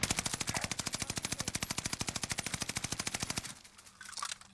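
Rapid automatic gunfire in Call of Duty Warzone Pacific, a fast steady stream of evenly spaced shots for over three seconds that stops abruptly, followed by a short muffled burst of game sound.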